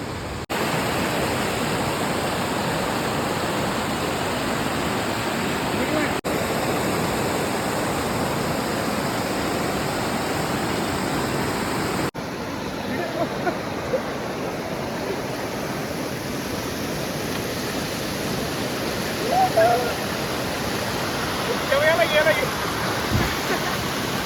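The Pemgiri waterfall roars as a loud, dense, unbroken rush of falling water heard up close, steady throughout with a couple of faint bumps near the end.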